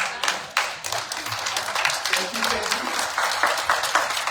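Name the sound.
audience applause after a presentation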